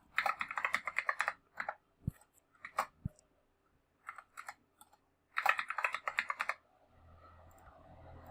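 A password being typed on a computer keyboard comes through as quick bursts of close, crisp key clicks separated by short pauses, with a couple of heavier single taps, and no voices.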